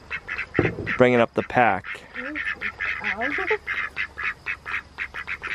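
Farm ducks near a chicken coop quack in loud, rapid bursts, with honking calls scattered through the stretch while a person talks over them.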